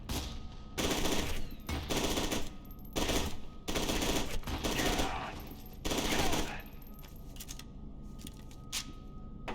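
Loud machine-gun bursts of covering fire in F.E.A.R. 2: Project Origin, coming in several sharp, chattering volleys separated by short pauses, with a voice speaking briefly between them.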